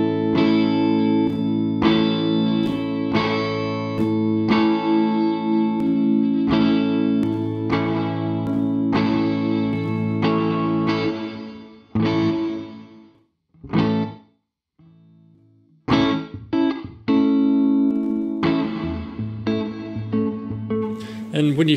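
Protoverb, a free reverb plugin, processing tonal, sustained material through randomly generated room models, giving a loud, washy, effected tail that changes character between settings, with brief drops to near silence as the model switches.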